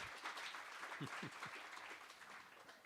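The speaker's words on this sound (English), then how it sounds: "Give them a warm applause." Audience applause at a maritime round table event aboard a ship, a steady spread of clapping from a crowd heard at a moderate distance, fairly faint, with some voices underneath.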